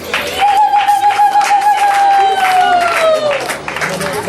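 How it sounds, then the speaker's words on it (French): Audience applause at a family celebration, steady clapping from a crowd with a sustained tone running through it, filling the whole stretch at full loudness. "Sous vos applaudissements."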